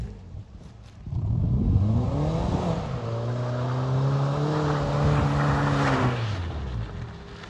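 A two-wheel-drive Honda Civic driven through mud, its engine climbing into a loud sustained rev that holds high and strained for several seconds before dropping off, heard up close with no talk.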